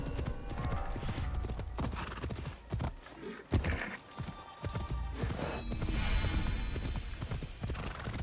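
Horse hooves clip-clop steadily in a video game, a continuous rhythmic trot with whinnies and game sound effects layered over it.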